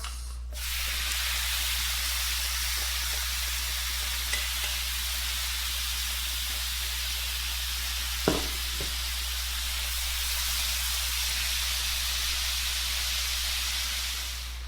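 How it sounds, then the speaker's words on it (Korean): Meat stir-fries in a preheated pan for japchae pasta, a steady broadband sizzle running close and loud for the whole stretch, with a brief clatter of a utensil midway and no talking. "여러분들이 제일 기대하던 거, 고기 볶는 거."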